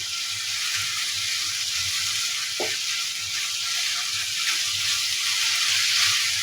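Potatoes fry with spices in a pan, making a steady close sizzle that runs throughout, with a faint scrape of stirring partway through.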